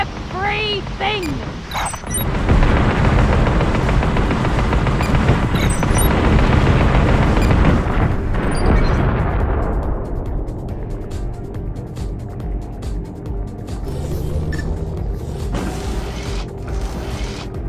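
In the underwater AquaNox Deep Descent game, weapons fire in a loud, dense barrage of booms and mechanical clatter that fades after several seconds into a quieter rumbling hum, with speech heard in places.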